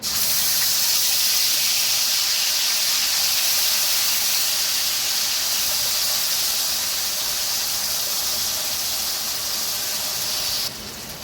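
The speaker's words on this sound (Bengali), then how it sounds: "মশলাটা এবার আমি একটু ভালো করে কষে নেব।" Ginger, garlic and green chilli paste with spices frying in a pan for Awadhi murgh korma, a steady loud hiss and sizzle running unbroken for about eleven seconds, easing slightly at the very end, with no talking.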